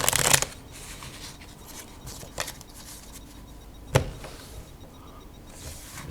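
A Bicycle Pirates deck of playing cards is riffled and fanned in a few quick papery bursts, a strong one at the start and others spaced a couple of seconds apart over a quiet background.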